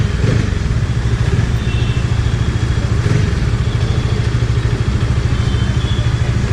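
A Bajaj Dominar 400 motorcycle idles with a steady, low, throbbing exhaust beat, close and continuous with slight mechanical clatter and no talking.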